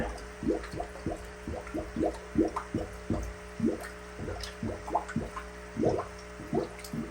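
Water is poured in repeated glugging pulses into an aquaponics pump to prime it, a regular series of close, gurgling splashes about every half second with no voices.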